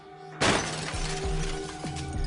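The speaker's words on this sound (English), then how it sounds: "smashed my head through the glass roof" Glass roof of a train dome car smashing in a collision scene: a sudden loud, sharp shatter that bursts out and carries on as crashing, tinkling debris over a low rumbling background.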